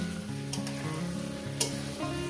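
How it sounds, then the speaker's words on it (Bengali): Paneer being stirred and fried in a pan, a close, steady sizzle under a sustained tonal hum, with a couple of brief scraping strokes from stirring. "পনিরটাকে দিয়ে আমি একটু এক মিনিটের মধ্যে একটু নাড়াচাড়া করে নেবো"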